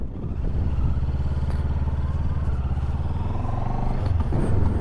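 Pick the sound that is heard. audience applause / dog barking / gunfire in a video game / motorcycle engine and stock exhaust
motorcycle engine and stock exhaust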